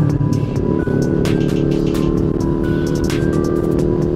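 A Kawasaki Ninja 250 FI motorcycle engine idles loudly and close by after an oil change, a steady, even drone with faint ticking on top and no talk.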